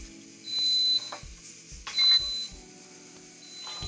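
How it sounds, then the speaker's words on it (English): A pressure canning processing timer goes off with a few short, high electronic beeps in a quiet kitchen, spaced in small bursts with light handling noise between them. "that is the timer for processing. It's just gone off."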